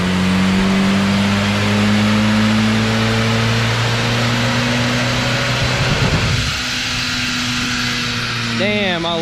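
A Mitsubishi Evo X MR in stock form with no tune, revving hard on a dyno, its engine note climbing steadily as harmonics rise, then cutting off abruptly as the revs drop away, loud and close.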